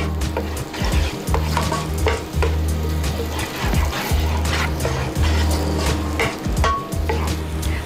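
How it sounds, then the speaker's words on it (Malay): Steady stirring and scraping of shallots and garlic frying in a pan with sizzling underneath, continuous and close, with occasional clinks of a utensil against metal. "Kita goreng dulu bawang merah dengan bawang putih kita ni ya."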